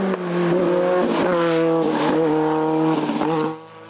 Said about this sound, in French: pour Christophe Poissignon, sa Simca CG Turbo ne rendant pas son plein rendement à cause d'un problème de collier de turbo